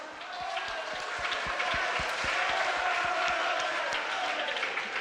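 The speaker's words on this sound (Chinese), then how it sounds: "掌声。" A church congregation applauds during a Sunday worship service, a dense, steady wash of many hands clapping that lasts the whole stretch, with a few lower thuds under it.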